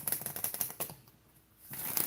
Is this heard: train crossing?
no